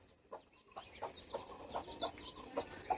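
A hen and her newly hatched chicks, four tiny ones, make soft, quiet clucks mixed with faint, high peeping in a short, close burst.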